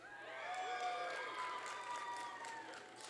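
A graduation commencement crowd cheering and applauding: a distant, moderate swell of many voices whooping and clapping that holds steady for a few seconds, then tapers off.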